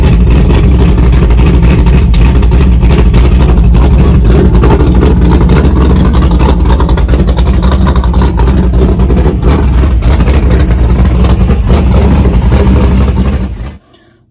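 A car engine runs loud and steady for over thirteen seconds, a close, continuous rumble that cuts off abruptly at the end, with no talk.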